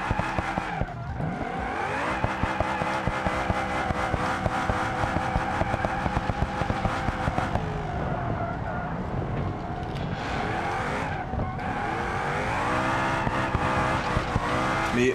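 A V8 car in a video game roars and revs hard and continuously, with pitch swinging up and down as it shifts, while tires squeal in long smeared whines throughout.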